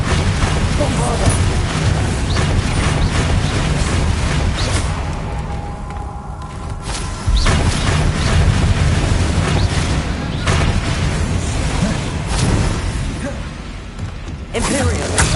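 Bombarda explosion spells cast in the video game Hogwarts Legacy: heavy booms and whooshing blasts roll through a dense, loud wash of game noise, easing briefly in the middle before the roar returns.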